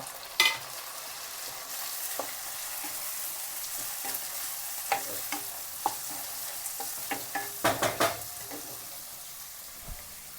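Tomato tipped into hot oil for poha, sizzling steadily with a few sharp utensil clinks and scrapes as it is stirred, close and fairly quiet.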